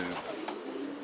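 Racing pigeons coo softly inside a pigeon loft, a brief, close, low murmuring call with no other sound.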